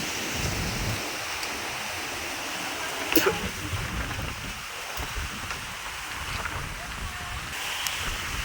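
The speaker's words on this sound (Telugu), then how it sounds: "సముద్రం లేచి సముద్రం లేచి వస్తుంది చూడు" Strong wind and rough sea waves during a sudden storm over the sea, a steady broadband roar with gusting rushes throughout, loud and close, with a brief sharper burst midway and people talking over it.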